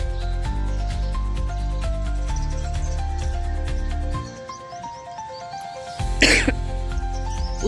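A woman coughs a few times, close and loud, over a background of steady tonal sound, followed by a short quiet gap and a sharp burst of noise.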